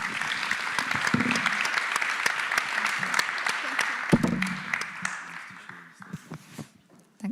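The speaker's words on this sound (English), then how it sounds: "let's give them a round of applause" A conference audience gives panelists at a finance discussion a sustained round of applause, dense clapping that rises and then thins out into a few scattered claps as it fades.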